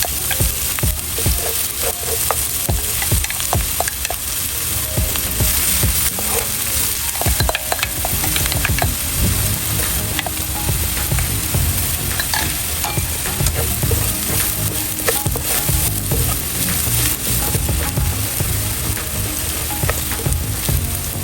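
Crushed garlic frying in hot oil in a cooking pot, with a steady close sizzle and bubbling throughout, plus occasional stirring scrapes against the pot, no voices.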